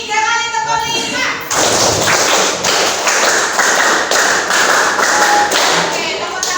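A class of Indonesian schoolchildren repeats a five-beat clapping pattern three times, brisk group claps and palm taps ringing out in a row over children's voices in a classroom.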